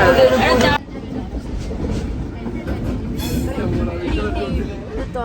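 Continuous rumbling rattle of a moving train from inside a carriage, with people talking over it.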